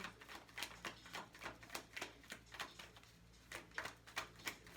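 Quiet, rhythmic riffling of tarot cards, repeated crisp flutters at an even pace, close and soft with no talking.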